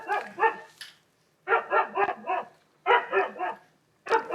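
A dog barks in rapid clusters of sharp, close barks, four bursts separated by short pauses, loud and clear with no talking.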